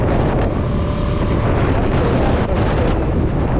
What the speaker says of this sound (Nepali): हावा यस्तो तुफान चलिरहेको छ